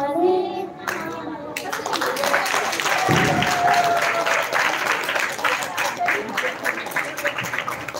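A crowd at a cultural performance event breaks into sustained applause after a performance, dense overlapping clapping that swells and holds loudly for several seconds, with some voices mixed in at the start.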